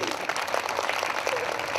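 Church congregation clapping together in worship, a dense steady wash of hand claps filling the room at moderate level without pause.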